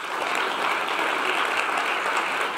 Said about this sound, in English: give another big round of applause to that rhino